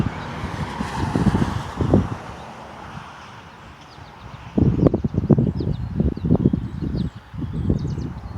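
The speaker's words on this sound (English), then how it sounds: "More cars passing through." Cars passing along a road near a lakeside parkway trail, a couple of vehicle swooshes rising and fading at moderate distance, with light rustling and faint birdsong in between.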